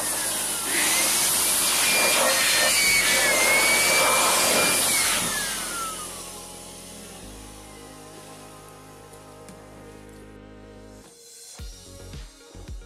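A loud, hissing rush of air from a blower cleaning an Acer Swift 3 laptop roars for several seconds, then drops to a quieter steady whir before brief rattling at the end.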